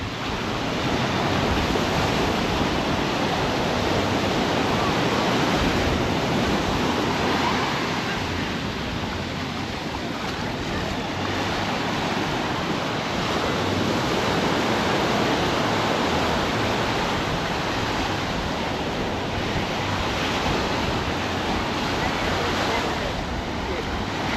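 Ocean surf washes steadily onto a busy beach in peak season, a broad continuous roar of breaking waves, loud and close, with wind buffeting the microphone.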